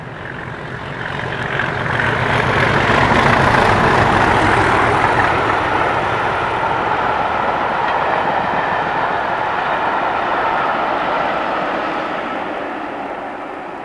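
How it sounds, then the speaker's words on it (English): DRS-liveried Class 37 diesel locomotives 37612 and 37604 top-and-tailing a rail tour train, a loud passing rumble with clattering wheels that swells, holds steady and then fades slightly. "Heading for Brighton are DRS liveried 2308 and 37612, with the Best of Both Worlds rail tour from Preston"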